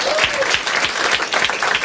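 A stand-up comedy show audience claps, a dense, loud burst of applause that fills the whole short stretch with a faint voice beneath.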